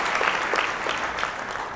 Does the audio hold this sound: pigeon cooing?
no